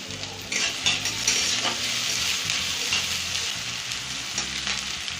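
Chopped ginger and green chillies fry in a pan with a continuous crackling sizzle, with stirring clatter and faint scraping throughout.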